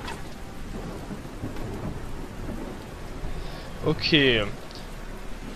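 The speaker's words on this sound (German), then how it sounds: "Der Regen ist natürlich unschön." Steady heavy rain hisses throughout a battle in the castle-building strategy game Stronghold 3, with low thunder rumbling underneath and a short voice line near the end.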